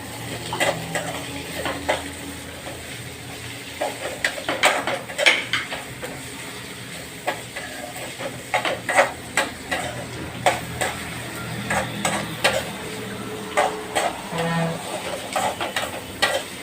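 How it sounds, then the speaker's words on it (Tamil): Onions sautéing in a pan for a Kumbakonam kadappa recipe, with a soft sizzle beneath intermittent scraping and clinking of a spoon stirring against the metal, close and moderately loud. "நல்லா பொன்னிறமாக வதக்கிக்கலாம்."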